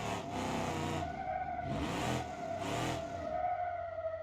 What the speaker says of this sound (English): Oh, taking that drift a little too fast there, but we managed to save it.